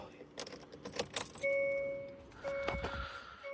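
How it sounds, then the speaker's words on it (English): A bunch of car keys jangles and clatters as it is dropped inside a petrol car, several bright metallic rattles in quick succession, close and fairly quiet, followed by brief electronic tones from the car. "Oh, dropping my keys."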